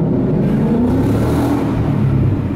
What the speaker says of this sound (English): we're gonna test the exhaust